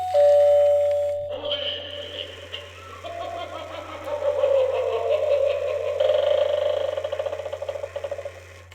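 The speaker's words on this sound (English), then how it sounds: "And it is this doorbell." A Halloween doorbell decoration mounted on a front door plays a ringing chime tune, a sustained electronic melody running clearly for several seconds, loud and close with no talking over it.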